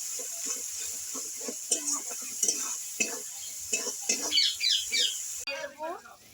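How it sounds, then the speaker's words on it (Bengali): Spice masala with chilli powder and turmeric fried and stirred in a pan for a vegetarian Kashmiri aloo dum, with soft sizzling and repeated scraping strokes of a spoon, close and moderately loud. "পরিমাণ মতো হলুদ গুঁড়ো দিয়ে আমি একটু ভালো করে মশলাটা কষিয়ে নেব।"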